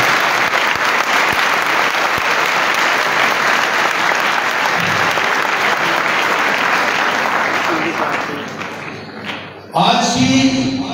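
A church congregation at an Easter night service claps loudly and continuously, a dense wash of applause that thins briefly before a burst of voice and noise near the end.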